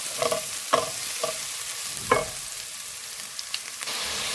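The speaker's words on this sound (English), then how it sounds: "So I have added my garlic already. And let it cook." Garlic fries in a pan as the base for a broiler chicken dish, with a steady sizzle broken by several sharp scraping stir strokes up close.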